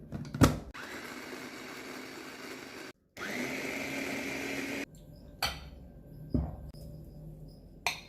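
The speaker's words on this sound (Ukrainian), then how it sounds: "Шкіркою із апельсина нарізаємо на невеличкі шматочки і подрібнемо у блендері." A kitchen blender grinds chopped orange peel in several short bursts, stopping and restarting, with clattering knocks between runs; fairly quiet and close.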